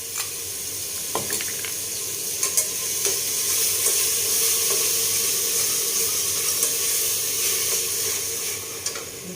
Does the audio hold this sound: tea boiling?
yes